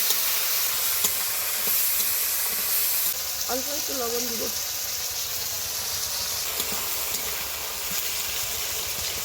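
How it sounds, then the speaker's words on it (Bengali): Onion and tomato sizzle steadily in hot oil while being stirred, a constant bright frying hiss that runs throughout, with a voice speaking briefly over it midway. "এবার ভালো করে তেলের সাথে নাড়িয়ে নেব"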